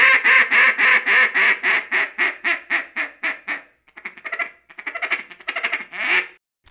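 Power Calls Jolt DR duck call blown in a long run of rhythmic, evenly spaced quacks that taper, then a choppier series of shorter quacks and a final burst, close and loud with no talking.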